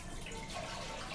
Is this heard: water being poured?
yes